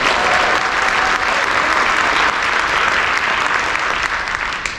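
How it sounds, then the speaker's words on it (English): A keynote audience applauds steadily and loudly throughout, a dense wash of clapping with no pauses. "let's give us a thunderous applause to all of them."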